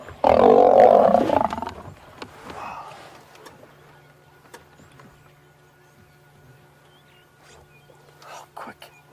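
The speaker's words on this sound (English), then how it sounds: "Did you hear the sound of that lion?" A lion in the wild roars loudly and close for about two seconds, a heavy rumbling burst that then fades into quiet outdoor ambience with faint rustles, a low steady hum, and occasional soft clicks.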